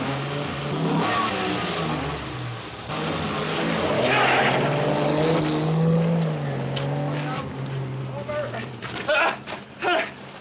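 A 1950s car engine revs and accelerates away in a street scene, a sustained loud rising drone under urgent shouting voices, fading toward the end.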